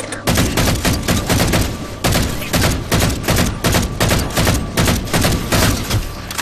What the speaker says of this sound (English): I like the weapon sounds